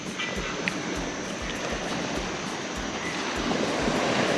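Sea waves on Langkawi beach wash in as a steady, broad surf hiss. It holds an even wash and swells slightly louder toward the end, with no voices.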